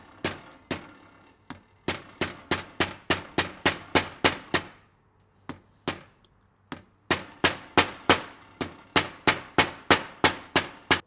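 A hammer taps a roll pin into a part of a Fiat Panda 4x4, a fast run of sharp metallic clangs with a short pause, then a second rhythmic series of close, loud strikes.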